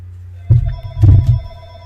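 A telephone rings nearby with a loud electronic bell tone, heard as two bursts of ringing over a steady low hum.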